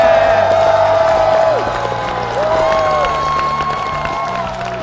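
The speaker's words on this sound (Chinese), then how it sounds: "我们给他掌声再次鼓励！" Studio audience at a Chinese stand-up comedy show applauding and cheering a comedian, a steady crowd wash of clapping and whoops with music running underneath.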